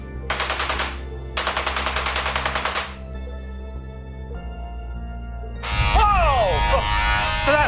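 A powerful Tesla coil running at full power, around 400,000 volts, fires loud buzzing bursts of rapid crackling pulses, stops, then starts again as a continuous harsh roar.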